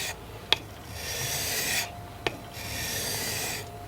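A plane cutter from an unmarked tongue-and-groove plane is rubbed across a 1000 grit sharpening stone in steady, dry rasping strokes, with two sharp clicks as the stroke direction changes.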